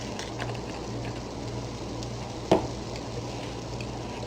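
Chili seasonings with beef bouillon and dried minced onion being stirred in a pan, a steady soft scraping and sizzling texture with a low hum beneath and one brief louder knock partway through.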